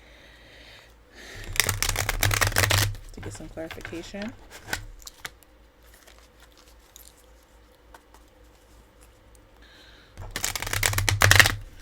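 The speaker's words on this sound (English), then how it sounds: "I'm gonna do 3 shuffles again on my tarot deck" Two bursts of rapid riffling shuffles of a tarot card deck, close and fairly loud, with a voice speaking briefly between them.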